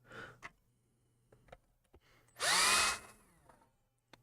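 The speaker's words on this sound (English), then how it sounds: "So that's why I'm not drilling this too deep." A power drill bores briefly into a guitar body, a single loud whining burst of about half a second amid quiet handling clicks and taps.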